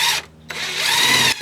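A power drill drives 3.5-inch screws into a wooden deck stringer board, whining loudly and close up in two bursts, a short one and then a longer one, with a brief pause between them.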